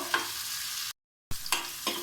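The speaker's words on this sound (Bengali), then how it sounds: "নুন আর হলুদ দিয়ে ফুলকপি ভেজে নিচ্ছি, একটু লাল করে ভেজে নেব।" Steady sizzling of cauliflower frying in a pan with salt and turmeric, broken by a brief silent gap, with occasional scraping as it is stirred.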